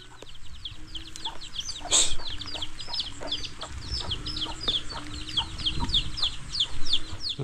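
Chickens on a rural backyard plot cluck in a steady, busy chorus of short repeated calls close by, with occasional louder squawks and a low outdoor rumble underneath.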